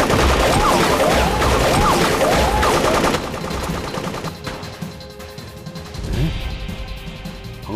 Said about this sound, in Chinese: 鹏飞那边怎么开枪了？